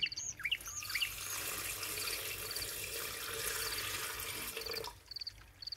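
Water pouring steadily into a Thermomix jug while making horchata de chufa, a continuous close rushing stream lasting about five seconds before stopping, with faint chirps in the background and no talking.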